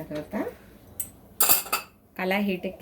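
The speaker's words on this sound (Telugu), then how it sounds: "ముందుగా స్టవ్ ఆన్ చేసుకొని కళాయి పెట్టుకొని" A metal kadai set on a stove for fish curry gives a few sharp, close clanks and clinks separated by short pauses, with a voice heard faintly in between.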